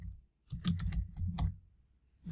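Quick bursts of typing on a computer keyboard as a name goes into a text box, close, crisp key clicks in a short run followed by a pause.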